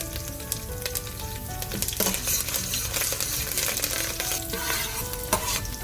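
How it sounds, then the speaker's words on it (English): Fresh curry leaves and lentils splutter and sizzle in hot oil, a close, busy crackle with sharp pops and stirring scrapes running throughout. "it's typical for curry leaves to splutter if the oil is hot, especially fresh curry leaves"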